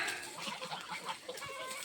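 Several geese honk and cackle together in a noisy, overlapping chorus, fairly close and steady for the whole stretch.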